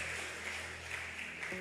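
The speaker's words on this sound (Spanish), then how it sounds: "Démosle ese aplauso a Jesús." A church congregation applauds together in a steady, dense wash of clapping, moderately loud and continuous, with a low sustained organ-like hum underneath.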